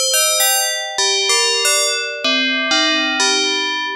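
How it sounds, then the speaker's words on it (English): Synthesized FM bell tones from the Tracktion F.'em synth ring out one after another, about nine clear struck notes stepping through different pitches, each with a sharp attack and a long shimmering decay, loud and alone. "Let's now go back to our bell sound without the feedback, sync, and other recent adjustments."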